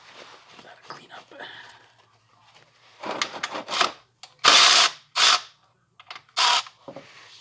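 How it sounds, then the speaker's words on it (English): A cordless Milwaukee Fuel 3/8 ratchet whirs in several short, loud bursts during a transmission service, with clicks and shop clatter between runs and some quiet talk early on. "These Milwaukee Fuel 3/8 ratchets, they got a lot of torque."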